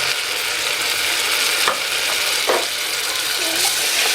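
Onions and ginger garlic paste sautéing for millet tomato rice, a loud, steady hiss of frying with a few scraping stirs of the spoon across the pan.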